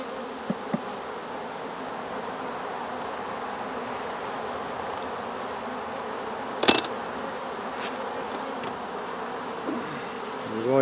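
Honeybees from a newly split colony buzzing around an opened hive, a steady dense drone filling the whole stretch, with a few light knocks and clicks from handling the hive.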